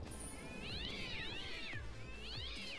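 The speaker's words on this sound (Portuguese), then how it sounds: "É um gato? Tá fazendo barulho de gato?" A cat in the Minecraft video game meows twice, drawn-out rising and falling cries over a busy low game background with no talk.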